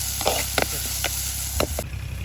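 Onions and two whole green chilies hit hot oil in a village-style kitchen, giving a steady close sizzle broken by a few sharp stirring clinks.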